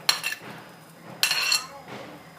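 Paneer cubes being stirred into a mixed vegetable tawa fry, with two bursts of utensil scraping and clinking against the pan a second apart, then a softer third stir, close and alone.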